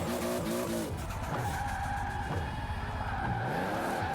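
A car in a racing video game drifts with sustained tire squeal and skidding over a revving, shifting engine tone, played on a Logitech G920 wheel, continuous and close.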